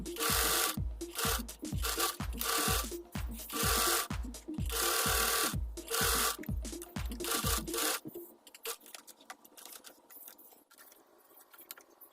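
A sewing machine stitches fabric for homemade jogger pants in repeated loud, rapid bursts with short pauses between them. It then stops, leaving quiet handling noises.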